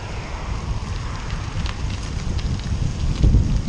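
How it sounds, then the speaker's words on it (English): Wind gusting against cyclists riding the Katy Trail, a steady buffeting rush on the microphone with low rumble, continuous and fairly loud, no clear talk. "Of course, now we're against the wind."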